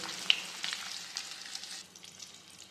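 Onion, garlic, dried red chillies and curry leaves crackle as they temper in hot oil, a steady close hiss with a sharp pop near the start and bursts of spattering that ease toward the end, with no voices.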